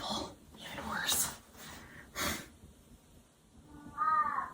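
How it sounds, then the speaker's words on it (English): A pet cat named Chazzy meows a few times, short nasal calls near the end after breathy sounds and a person's quiet talk, fairly faint and close. "Meow. Oh, meow."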